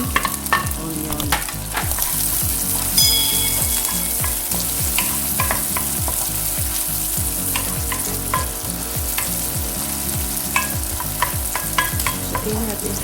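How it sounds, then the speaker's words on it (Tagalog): Onion sautéing in a pan for keto butter chicken, a loud continuous sizzle broken by regular scraping strokes of stirring, close up, with no voices. "Saute na natin ang ating onion."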